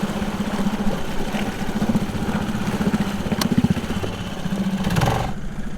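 An outboard engine on a small sailing boat runs hard against a strong current, a steady loud chugging drone that surges slightly and then drops off near the end, with no talk.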